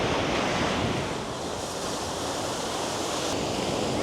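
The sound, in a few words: stormy sea waves crashing on the Cornwall coast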